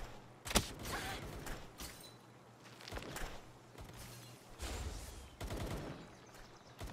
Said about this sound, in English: You're getting shot at by level 40.